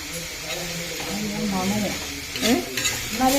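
Curry leaves crackle and sizzle steadily in hot oil in a pan while a voice talks over the frying throughout.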